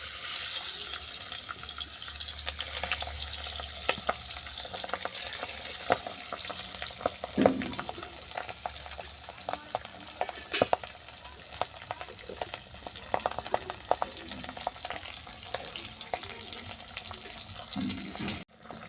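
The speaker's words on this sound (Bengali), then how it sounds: "সরষের তেলটা গরম হয়ে গেছে মাছগুলোকে আমি উল্টে পাল্টে বাদামি করে ভেজে নিচ্ছি" Pabda fish frying in hot mustard oil in a kadai, turned over as they brown; a steady close sizzle runs throughout, dotted with scattered clinks and stirring clicks, and no one talks.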